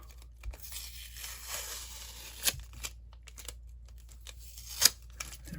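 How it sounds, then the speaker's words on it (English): Tape is peeled off a pack of baseball cards in quiet crinkling and tearing rustles, with two sharper snaps standing out, close and faint. "Get this tape off."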